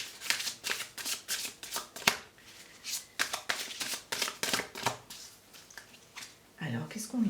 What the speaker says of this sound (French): on va tirer une carte pour la sphère sentimentale spécifiquement